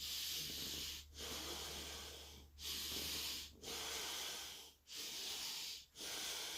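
Slow, deep breaths during a guided breathing exercise, long airy inhales and exhales in steady cycles with brief pauses between them, close and fairly loud with no talking.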